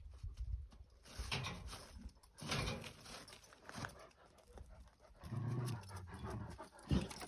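A dog pants and snuffles close by, with bursts of movement and rustling in a quiet setting.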